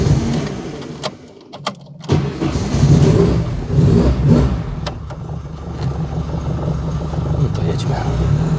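A 1.6 Alfa Romeo Giulia GT Junior is started inside a garage: a few clicks and a brief cranking, then the engine catches and settles into a loud, close, throaty idle with light revving, while people talk over it.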